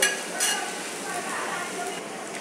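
Pieces of pointed gourd fry in soybean oil, giving a steady, close hiss and sizzle with a few brief clinks of a utensil stirring in the pan.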